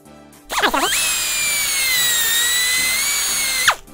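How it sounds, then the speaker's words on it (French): An angle grinder cuts through a braided Goodridge aviation hose clamped against a vise, spinning up with a whine, then a loud sustained high-pitched grind for about three seconds before winding down. "Voilà, donc le flexible est coupé."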